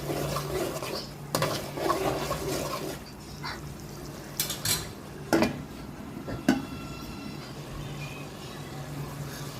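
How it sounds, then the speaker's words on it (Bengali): Bottle gourd pieces go into a pot with beef and are stirred, bringing dull clatters and a few loud metallic knocks and scrapes over a low background hum. "এই পর্যায়ে আমি লাউগুলো দিয়ে দিব"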